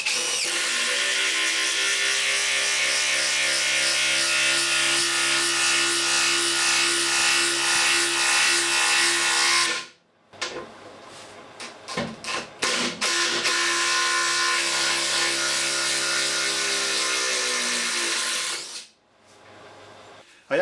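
A DeWalt DCF887 18V brushless impact driver drives an M10x150 coach screw into wood with no pilot hole, giving two long loud hammering runs, each about ten seconds, separated by short stop-start bursts.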